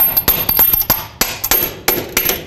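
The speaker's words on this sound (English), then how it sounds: "You can hammer the bolt in." A hammer drives a bolt into a lower control arm on a 2001-06 Toyota Camry, landing about a dozen sharp metallic blows in uneven bursts, loud and close with brief ringing after each strike.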